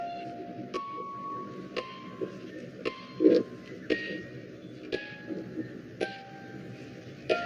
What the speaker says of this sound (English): This is the song of an extinct New Zealand bird called the huia